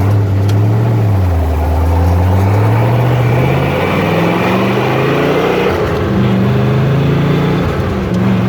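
A 1967 Corvette with factory side pipes and straight pipes, no mufflers, revving loudly up and down at close range, a deep engine tone rising and falling with each blip and no talk.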